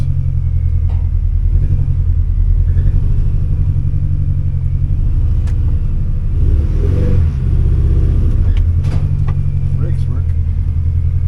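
A 2003 Mini Cooper engine rumbles loud and close while the car moves in reverse, a heavy low drone with slight rises in pitch and a brief dip midway, with voices talking over it.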